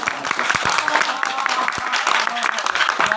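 Audience applause at an Urdu poetry gathering (sheri nashist) in Malegaon, a dense, steady patter of many hands clapping close by for a few seconds, with no speech over it.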